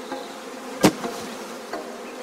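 Honeybees dropped onto a sloping surface crawl uphill toward a hive, giving a soft insect buzz with a sharp close burst near the start and a few fainter flickers after, otherwise quiet.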